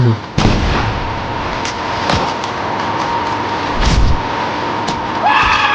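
Pistol shots and loud bangs ring out in a video game, several sharp cracks scattered over a constant roaring background, with a rising tonal sound near the end.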